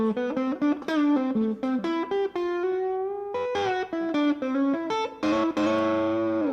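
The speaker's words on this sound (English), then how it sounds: "If I play hard, it still gives me that crunchy tone." A distorted electric guitar plays hard, crunchy notes and chords in a quick phrase, ending on a sustained, saturated chord, with no voices.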